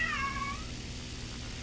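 Brief cat meow, a short falling cry at the very start that fades into low rumbling background noise during a Battle of Britain Ju-87 flight game.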